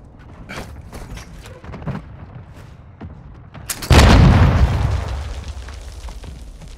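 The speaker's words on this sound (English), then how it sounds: "Our mortar strike is inbound." Mortar strike in Call of Duty: Modern Warfare II: scattered clicks and small pops, then a sudden loud close explosion that booms and rumbles away over several seconds.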